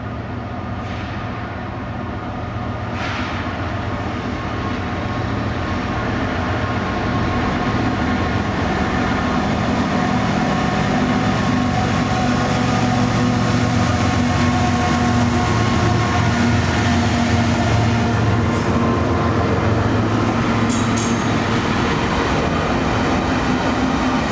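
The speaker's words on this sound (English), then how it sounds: "we see several GEVOs, an ACE, and a C44 ACM that used to be an AC6000 CW heading westbound" Westbound freight train near Denver led by several GE Evolution locomotives, an SD70ACe and a C44 ACM rebuilt from an AC6000CW, rumbling past nearby in a steady loud roar with heavy low engine drone that swells slightly as it continues.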